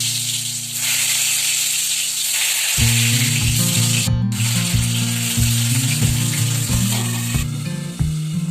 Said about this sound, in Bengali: চলুন কড়া বসিয়ে দিয়েছি পটল ভেজে ফেলি